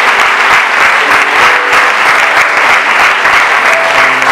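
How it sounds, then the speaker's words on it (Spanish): A church congregation claps together in steady, dense applause, loud and sustained for a few seconds, filling the room evenly with no break. "Dale un aplauso al Señor"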